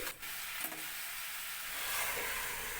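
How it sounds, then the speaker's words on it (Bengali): Boiled raw jackfruit being stir-fried with shrimp and spices in a pan, a steady soft sizzle with scraping stirring strokes, close and continuous. "সেদ্ধ করা এঁচড়গুলোকেও ভালো করে নেড়ে চেড়ে সাঁতলে নিচ্ছি"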